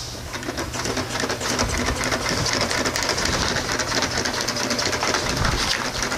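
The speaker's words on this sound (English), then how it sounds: "All right, let's continue sewing." A sewing machine stitches a fish bag, its motor running in a steady, continuous mechanical whir with fast regular needle clatter and a low hum throughout.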